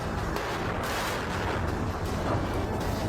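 Continuous rumbling gunfire and distant explosions from street fighting in Sudan, a dense unbroken barrage with sharper bursts now and then, loud throughout with no voices.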